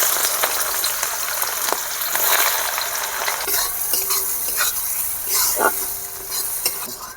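Chopped onion sizzles and spits loudly in hot oil seasoned with sugar, cardamom, cloves and cinnamon. A steady crackling hiss continues, with stirring scrapes throughout.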